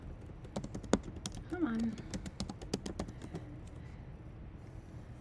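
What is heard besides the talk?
typing on a computer keyboard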